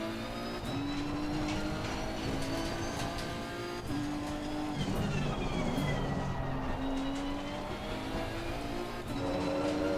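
A packed field of fifty race cars at Zolder at night in Assetto Corsa Competizione roars as one continuous dense engine drone, pitches sweeping up and down as cars accelerate and shift, steady and loud throughout.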